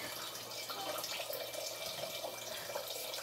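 Water running steadily into a pressure cooker in a home kitchen, a continuous close splashing pour that holds at an even level throughout, with no talk.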